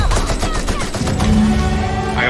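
Gunfire in The Outer Worlds video game, a loud rapid volley of shots in quick succession, dense and close, with no talking.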